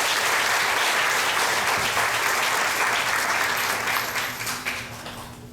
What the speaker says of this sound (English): let's give a nice round of applause for Pandit Ramayan.